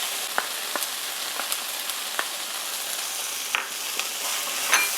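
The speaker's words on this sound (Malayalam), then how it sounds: "ഇനി നമുക്ക് ചതച്ച് വെച്ചിരിക്കുന്ന ഇഞ്ചിയും വെളുത്തുള്ളി 2 ടേബിൾ സ്പൂണോളം ഉണ്ട്, ഇവിടെ ചേർത്ത് വഴറ്റാം." Two tablespoons of crushed ginger and garlic sautéing in a pan for chicken biryani, a steady fine hiss of oil with scattered sharp crackles and spatula taps, close and moderately quiet, with no speech.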